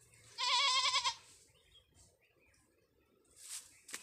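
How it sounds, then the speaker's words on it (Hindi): A goat out grazing on a hillside gives one clear wavering bleat, moderately close, followed by faint rustling and small distant sounds. "दूसरी बकरी ने आवाज़ दिया"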